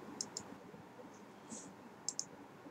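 Sharp, close computer mouse clicks in two quick pairs at the start and end with a single soft click between, over a faint quiet room background.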